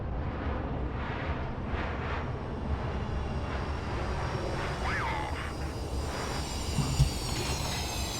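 Jet engine whine of an F/A-18F taxiing after landing in Microsoft Flight Simulator, a steady broadband roar with a high turbine tone, continuous and moderately loud with no talk.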